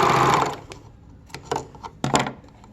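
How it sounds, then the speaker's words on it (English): A sewing machine stitches fabric pieces for thumbholes, a steady whir at the start followed by short, separate stitching bursts, close and fairly loud with no talking. "And just sew right off"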